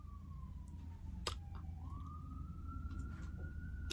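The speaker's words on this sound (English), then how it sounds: "I'll wait for the siren to go by." An emergency vehicle siren wails steadily as it passes, its tone sliding down and then rising again over a constant low rumble of street traffic, heard alone with no talking.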